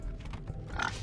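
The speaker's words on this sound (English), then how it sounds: "Now we've got all these dynamite-strapped pigs just wandering around." Dynamite-strapped pigs in Wasteland 3 grunt in a quick rough burst, close and fairly faint, ending in a brighter squeal.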